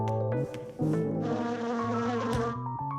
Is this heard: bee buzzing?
yes